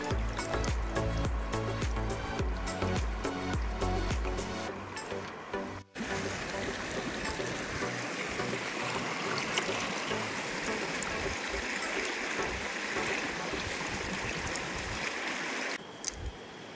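Stones are washed in river water beside a flowing stream, with steady rushing and trickling close by and a brief break near the middle, no voices heard.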